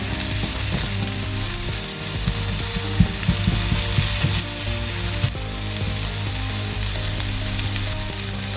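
Onions frying down in a pan for a chicken, chorizo and white bean cassoulet: continuous close sizzle with a few clinking stirs and scrapes partway through, no voices.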